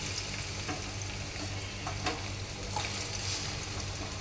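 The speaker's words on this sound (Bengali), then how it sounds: "আমি এখন এখানে কাঁচা পেঁয়াজ কুচি দেব" Chopped raw onions fry in hot oil in a frying pan, giving a steady, close, continuous sizzle with small crackling pops throughout and no voices.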